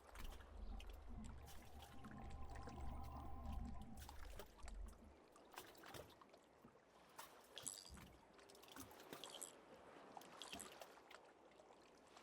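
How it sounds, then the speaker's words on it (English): Waves lap and slap against a small boat hull in the fishing game Call of the Wild: The Angler, faint watery splashes and trickles arriving irregularly over a low rumble, close and quiet with no talk. "they actually have the sound of, like, the waves hitting on the boat hull"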